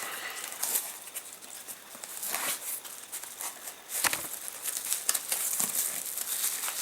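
Crinkling plastic and cardboard as a parcel from Allegro is torn open, a steady close rustle with sharper rips and crackles throughout.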